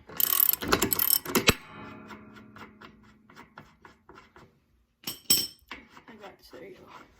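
A ratchet clicks in quick runs while a nut comes off the cover of a Toro 21-inch ProLine mower with a Kawasaki FJ180V engine. Close metallic rattling and clacking fade to sparse ticks, with a person talking at the same time.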